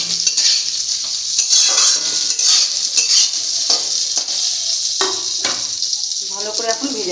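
Masoor lentils, washed, drained and coated in oil, are fried and stirred in a pan. Close, clattering scrapes of a utensil sound over a light sizzle, with a brief voice near the end.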